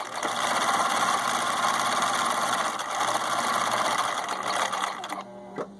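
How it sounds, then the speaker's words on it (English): A Husqvarna Viking 6440 sewing machine runs at full speed, a loud, steady, close mechanical whir and rapid needle clatter held for several seconds before it winds down. "We can sew super fast."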